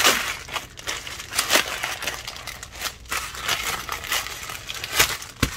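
Small scissors snip and crinkle through thin plastic packaging of cheap nail art supplies, a close run of crisp crackling cuts and rustles with sharp bursts about every second, no talking.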